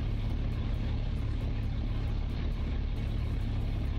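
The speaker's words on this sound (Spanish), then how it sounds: "¿Escuchá ese motor?" A car engine idles in Car Mechanic Simulator 2021, a steady, dense rumble holding evenly from start to finish with no revving and no talk over it.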